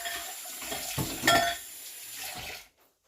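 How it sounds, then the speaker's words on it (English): Water runs and splashes into a metal dish with clinks of cookware, swelling briefly in the middle before cutting off abruptly near the end; a cauliflower pizza crust pan. "Let's get water in this right away so it doesn't stick."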